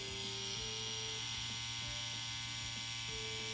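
A Vlad Blad Ultron pen tattoo machine with a 23 Cheyenne needle cartridge, stroke set to about 2 millimeters, runs as a steady, quiet electric buzz and hum, nearby and unbroken, with no talking.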